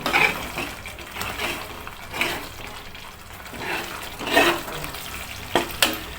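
Rice being stirred and mixed into coriander masala frying in oil in a pan, with soft scraping and sizzling swishes that come and go in uneven strokes, close up and moderately loud.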